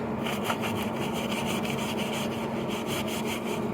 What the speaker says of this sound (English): you want to really scrub on there, scrub hard